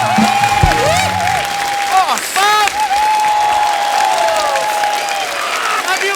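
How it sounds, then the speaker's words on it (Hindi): A TV comedy show audience breaks into loud sustained applause and cheering, with background music playing and a voice calling out over the clapping. "जोरदार तालियां हो जाए"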